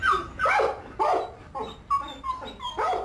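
A lurcher dog barks in a run of loud, close yaps and whining barks, about six bursts over a few seconds, with no talk.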